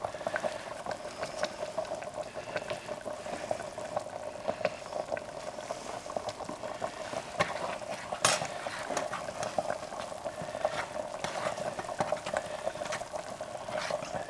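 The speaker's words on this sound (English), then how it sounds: "Now the roux is going to be our thickener to create essentially our pickle stew here." A flour-and-fat roux bubbles in a metal canteen cup, a close, steady crackling sizzle with quick ticks and pops running throughout, and no voices.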